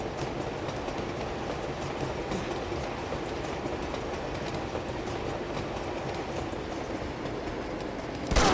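A very long train rolls steadily in the video game Uncharted 2, a continuous rumbling clatter of wheels on track with faint rhythmic clicks, holding even loudness throughout until a sudden sharp jolt at the very end.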